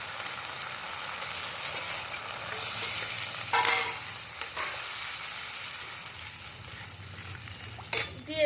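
Soy sauce, tomato sauce, cornflour slurry and water hit hot capsicum in a pan for veg Manchurian, bursting into a loud, steady sizzle with occasional scrapes and clinks of stirring, closing on a sharp metallic knock.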